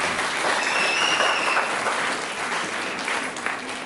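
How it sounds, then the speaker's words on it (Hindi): A congregation at a Christmas Mass breaks into loud, sustained applause, a dense, even wash of many hands clapping together that fills the hall for several seconds with no voices over it. "जोरदार से इनको तालियां बजाकर धन्यवाद।"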